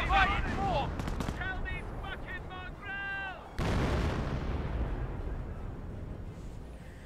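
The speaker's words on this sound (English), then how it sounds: "the Hummel's coming in for a counter barrage" Counter barrage from a German Hummel self-propelled howitzer in Company of Heroes 1, a heavy artillery impact that rolls into a long rumble, following sharp game clicks and chirps.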